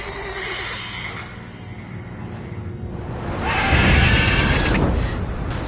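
A video game mare whinnies loudly and close, followed by a burst of rough snorting and movement, with a faint musical background.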